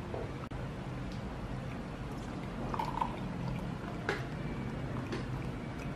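Rosé or beer poured at a holiday dinner table, a steady liquid pour running through the clip with a few faint clinks and background bustle; no talk.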